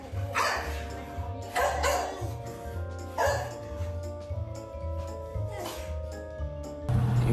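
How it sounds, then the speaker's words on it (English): A dog barks repeatedly in short bursts, close by at a vet clinic, with a few yips between barks and a low hum underneath. "You barking at me?"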